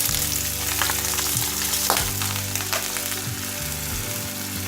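Chopped onion frying in refined white oil, a continuous close sizzle with a few stirring scrapes over a steady low hum from nearby equipment.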